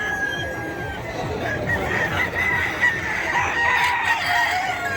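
Chickens and roosters at the Bocaue poultry market crow and cluck repeatedly amid a steady crowd hubbub, the bird calls loud and close over distant voices.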